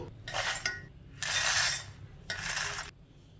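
Roasted whole spices tipped into a mixer grinder jar, coming through as three bursts of rattling, clinking pours that are fairly close, with brief quiet gaps between them.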